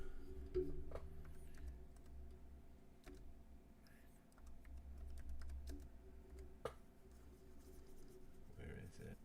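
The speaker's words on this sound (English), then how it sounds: "I'm a slow typer, so bear with me" Slow, uneven keystrokes tap on a computer keyboard with scattered light clicks, while a voice murmurs now and then in the background.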